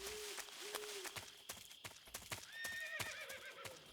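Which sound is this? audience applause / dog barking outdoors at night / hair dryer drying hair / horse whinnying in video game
horse whinnying in video game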